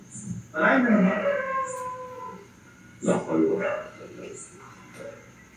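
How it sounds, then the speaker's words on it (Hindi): Dogs giving two drawn-out, wavering howl-like barks a few seconds apart, fairly close, across an outdoor area with trees, with quiet background noise between the bursts. "गधे, कुत्ते, परिंदे, मिक्स आवाजें आना शुरू"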